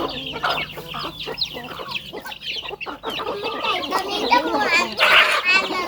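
Naturally raised free-range backyard chickens cluck and call repeatedly up close, with an occasional crow, while someone talks over them.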